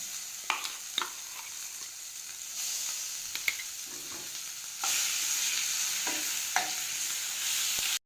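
Onion paste with garam masala and chilli powder sizzles steadily in a pan, with several sharp clicks of a spoon stirring and scraping, the frying growing louder partway through.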